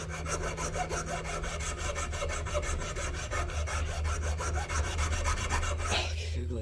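A coarse-toothed file rasps a wooden mallet in a steady run of quick back-and-forth strokes, close and fairly loud, stopping at the end with no voices.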